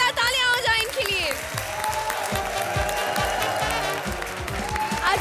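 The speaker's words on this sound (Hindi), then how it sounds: "जोरदार तालियां हो जाए इनके लिए।" A studio audience at a comedy show applauds loudly, with music and a host talking over the clapping.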